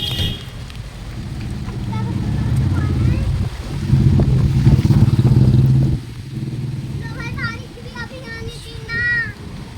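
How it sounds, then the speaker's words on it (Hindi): A storm with strong wind and light rain roars in loud gusting rumbles outdoors, swelling and easing over several seconds, while people talk under and after it. "बारिश तो कम है लेकिन तूफान बहुत है।"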